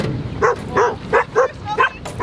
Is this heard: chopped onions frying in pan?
no